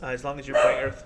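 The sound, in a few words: dog barking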